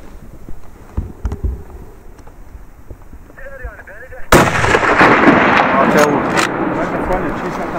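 A single sharp, loud rifle shot cracks out during a bezoar ibex hunt in the Turkish mountains, followed by a sustained rush of wind and echoing rumble; quieter wind and faint voices come before it.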